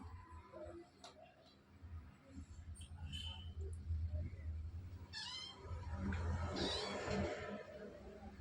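An injured pet cat that was bitten gives a few faint, short meows in a quiet home, with soft background noise and some people talking.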